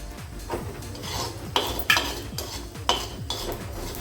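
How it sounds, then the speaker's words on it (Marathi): Roasted coriander seeds are scraped out of a pan onto a plate with a metal utensil, giving several close scrapes and clinks in an uneven rhythm with a soft rustle between them, and no one speaks. "आता मी हे धणेसुद्धा प्लेटमध्ये काढून घेणार आहे"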